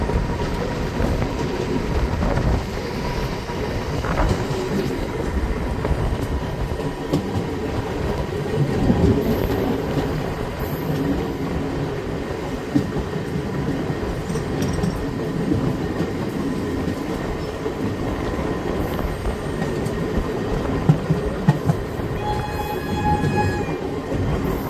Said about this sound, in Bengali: ট্রেন পাস করছে পাথনাহা রেলওয়ে স্টেশনকে